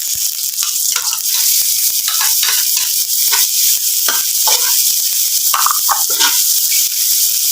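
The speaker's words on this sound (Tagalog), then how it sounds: "Gigisa muna, guys, ang bawang." Garlic and onion sautéing in a little oil, a bright continuous sizzle close up with repeated scraping and stirring strokes of a spatula across the pan, no voices.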